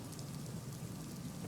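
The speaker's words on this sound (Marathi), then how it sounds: "नाशिक जिल्ह्यात पावसानं अक्षरशः थैमान घातलंय।" Heavy monsoon rain in Nashik pours down steadily as a dense, even roar over flooded farm fields, close and loud with no break and no voices.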